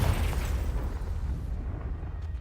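A Confringo spell blast in Hogwarts Legacy erupts as a loud, booming burst at the start, its rumbling roar decaying over a couple of seconds with no talk.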